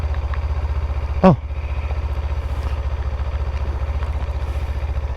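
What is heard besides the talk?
Kawasaki Ninja 500 motorcycle engine idling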